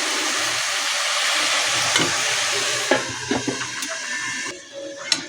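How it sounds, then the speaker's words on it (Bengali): Banana flower (mocha) masala sautéed slowly in a pan, giving a steady close sizzle throughout with occasional scraping clicks of a spatula, fading slightly toward the end. "আর 2 মিনিট আমি এরমভাবে আস্তে করে কষিয়ে নেব।"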